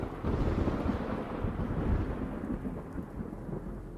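A thunderstorm rumbles low and heavy with steady rain, deep rolling thunder swelling and fading over a constant hiss of falling water, with no voices, set as an effect in a horror audio story.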